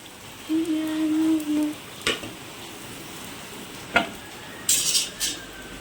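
Okra fries in a pan with a soft background sizzle, punctuated by a few brief clinks and scrapes of stirring and a short electronic beep early on.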